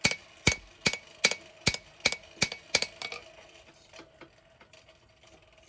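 Hot knife blade being forged, about eight sharp ringing hammer blows in a steady rhythm, then a scatter of lighter, fainter taps as the work slows; close and loud, with no speech.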